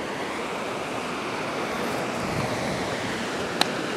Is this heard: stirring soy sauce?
no